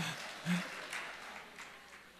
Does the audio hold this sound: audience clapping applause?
yes